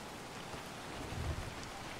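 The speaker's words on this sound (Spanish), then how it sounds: "Está lloviendo." Rain falls steadily in the dark medieval strategy game Gord, a faint, even hiss of downpour with a soft low rumble swelling briefly midway.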